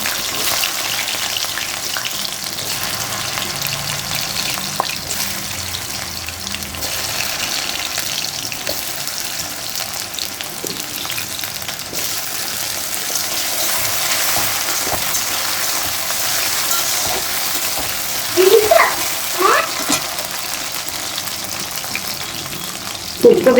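Taro and potatoes go into hot oil seasoned with bay leaf, giving a loud, steady frying hiss with a few clanks and splashes near the end.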